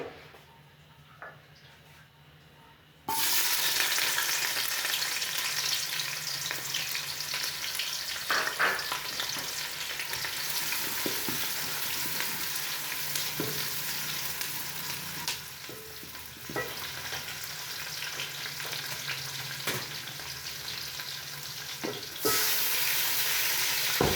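Onions browning in a pan of hot oil for a turnip (shalgam) curry, giving a steady, close sizzle and crackle that runs nearly the whole time, with occasional stirring scrapes and no talking.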